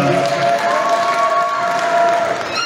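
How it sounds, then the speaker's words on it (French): Audience at a Miss Dary pageant during Festival Dary applauding steadily, a thick wash of clapping mixed with crowd noise and occasional cheers, holding level the whole time. "Merci, on applaudit pour"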